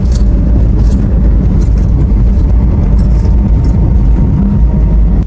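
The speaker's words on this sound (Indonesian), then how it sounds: "Dari suara mobil aja kedengaran nih berisiknya." A car drives along a heavily patched toll road, with a loud, steady roar of tyre and road noise filling the cabin throughout, punctuated by faint thumps over the patches.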